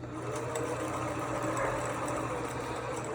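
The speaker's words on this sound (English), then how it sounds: "We have a sewing machine." A sewing machine runs steadily nearby, a fast mechanical whirring hum with a rapid stitching rhythm throughout.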